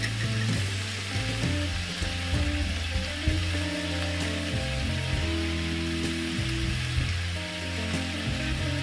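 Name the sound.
minced meat sizzling while roasting in a pan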